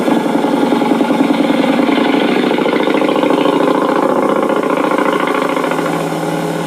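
A 1925 Brough Superior SS80 motorcycle engine running with a steady mechanical chugging rumble, close and loud with a dense rhythmic beat, holding an even pace without talk.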